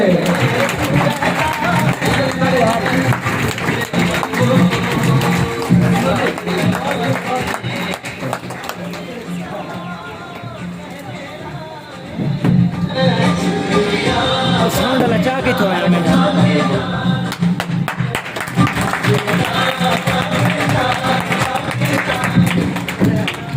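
Audience applause at a school annual function in Chak No 172, loud and dense throughout, with a crowd murmur mixed in and music or a voice running underneath, dipping briefly midway before swelling again.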